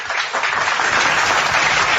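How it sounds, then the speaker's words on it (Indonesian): Audience at a religious talk breaks into applause, a dense, loud wash of clapping from many hands, steady for a couple of seconds with no voices over it. "tepuk tangan untuk itu."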